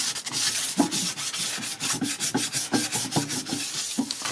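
Hand sanding of a 1999 Ford Explorer rear differential cover with 320 grit sandpaper, a close, steady run of scratchy back-and-forth strokes repeating at a quick, even rhythm, with no talk.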